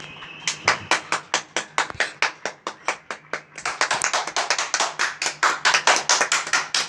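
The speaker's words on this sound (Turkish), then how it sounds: "Gel bir alkışa." Loud, close hand clapping by a single person, a steady run of sharp individual claps that briefly pauses, then resumes slightly faster and denser, with no talking over it.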